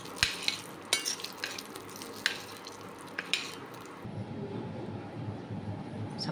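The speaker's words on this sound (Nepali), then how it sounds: "यही प्यानमा अलिकति बदाम पनि फ्राई गर्छौँ" Peanuts fry in a pan, with a few sharp scraping clicks from stirring over a low crackle, and a steadier, louder sizzle rising toward the end.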